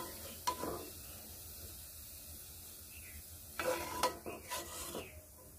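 Snacks made from leftover rice being dropped into hot oil for deep frying, with a faint hiss and a few soft clinks and splashes near the start and again toward the end, quiet and close.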